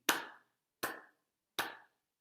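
Hands clap along to a beat, three sharp, crisp claps spaced evenly about three quarters of a second apart, close and alone in a quiet room.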